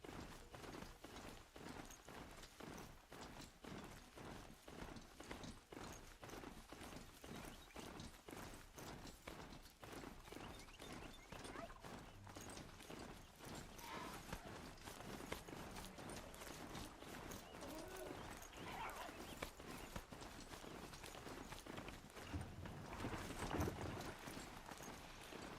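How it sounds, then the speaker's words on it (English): Steady, rapid clip-clop of hooves as a machine-like horse mount gallops across terrain in Horizon Zero Dawn, a continuous rhythmic pounding with faint mechanical clanks, heard alone without talk. "It's easier to run on horse"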